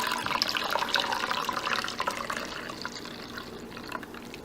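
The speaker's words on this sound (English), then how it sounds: "And then we're going to pour the rest of the soy milk in here." Soy milk is poured into a bowl for making vegan yogurt, a steady close-up liquid splash and gurgle that is strongest at the start and gradually softens, heard alone without talk.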